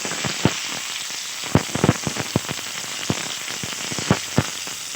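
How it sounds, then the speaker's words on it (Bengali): Pea patodi fritters wrapped in bottle gourd leaves fry four at a time in mustard oil, making a close, continuous sizzle broken by irregular sharp crackles and pops, with no voices. "এক এক করে দিয়ে দেবো আর আমি চারটে চারটে করে ভেজে নেব।"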